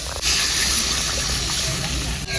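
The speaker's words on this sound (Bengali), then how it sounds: "আমি এবার জল দিয়ে দিচ্ছি" Water poured into a pan of fish curry, a loud close continuous gushing splash filling the moment, steady from start to finish.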